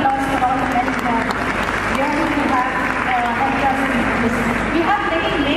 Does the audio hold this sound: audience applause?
yes